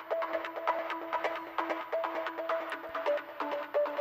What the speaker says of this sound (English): This one also plays the pattern of the bass line later in the track